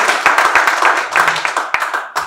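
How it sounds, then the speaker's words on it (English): A small audience claps for a welfare minister at a formal reception, giving a loose, fairly close ripple of separate hand claps over about two seconds, with a faint voice underneath. "Please, a round of applause for Mr. Christian Okeke."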